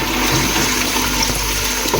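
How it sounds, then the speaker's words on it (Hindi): Bay leaf, cinnamon, black cardamom and cumin seeds frying in oil, a loud dense continuous sizzle held close without pause or talk. "अच्छी तरह से फ्राई करेंगे।"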